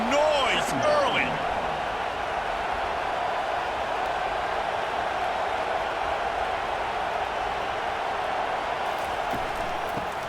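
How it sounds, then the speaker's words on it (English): A college football stadium crowd at an Ole Miss Rebels versus Georgia Bulldogs game roars as a steady, dense wash of noise, with a commentator's voice briefly heard at the start. "This crowd bringing the energy and noise early."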